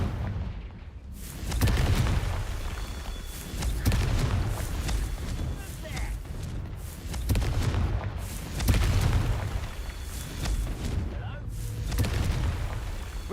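Confringo spell blasts in Hogwarts Legacy on PS5, several heavy booming explosions rolling one after another amid ongoing battle noise, with people talking in between.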